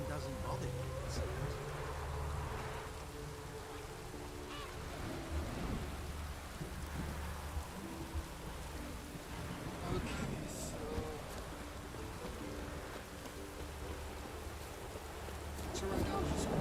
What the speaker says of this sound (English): Rain doesn't bother you, it seems.